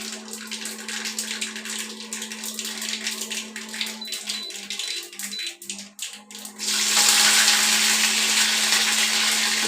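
A mixer grinder crushing dried red chillies and curry leaves, a close, loud, continuous whirring drone that stutters in the middle and then surges to a harsher, brighter roar near the end.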